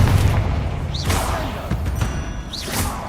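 Confringo explosive spell cast in a Harry Potter video game: two quick whooshing casts, each ending in a rising chirp and a bright burst, over a low rumbling game background.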